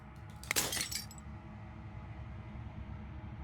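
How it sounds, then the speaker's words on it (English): A sharp burst of breaking glass from the video game Slay the Princess, one crash with a brief tinkling scatter that fades within half a second, then a low steady ambient hum. "As the final fragment of glass shatters, you see yourself in newfound clarity."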